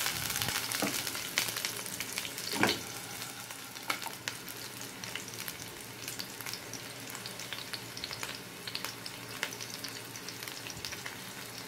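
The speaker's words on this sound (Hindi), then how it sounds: "टोमेटो चटनी के लिए मैं पहले प्याज डालूँगी। इसको थोड़ा फ्राई करूँगी।" Onions frying in hot oil for tomato chutney, a close, continuous crackling sizzle full of scattered pops and spits, with occasional stirring scrapes.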